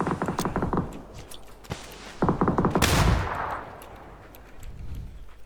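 Gunfire rings out in the video game PUBG, with rapid bursts of automatic shots and single cracks near and far, including a loud blast, mixed with game ambience.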